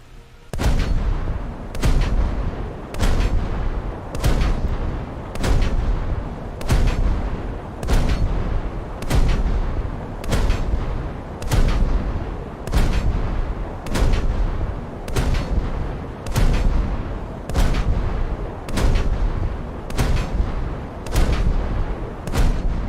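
Naval gunfire from Japanese frigates in a video game: loud, evenly spaced cannon blasts, about one per second, booming over a continuous rumble with no voices.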